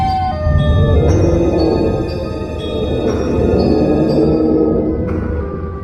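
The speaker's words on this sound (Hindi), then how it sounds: "सोन ने तो अपना ही सायरन बजा दिया है।" A cartoon siren wails from the Siren Head character in an animated chase, a loud, tonal rising and falling siren with stepped pitch shifts, close and continuous, with no voices over it.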